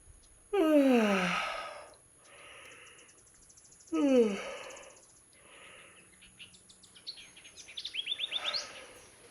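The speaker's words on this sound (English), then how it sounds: "You can start by doing a few pretend yawns, and then the body will start naturally yawning." Pretend yawns done as a voice and vagus nerve exercise: two long breathy yawning exhalations with falling pitch, close and fairly loud, each fading out, followed by softer airy sounds and a few quick high chirpy vocal noises at the end.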